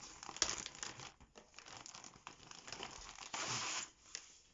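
A packaged cross-stitch canvas, 14 count and 44 by 30, is unwrapped with close, continuous crinkling and rustling of plastic wrapping, broken by short tearing bursts and one louder stretch of rustling near the end.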